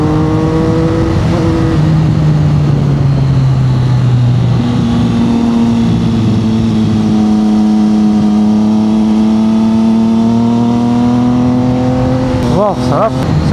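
A 2025 Triumph Tiger 800 motorcycle is ridden on an open road, its engine droning loud and close with rising and falling pitch as it shifts through gears, under heavy wind rush.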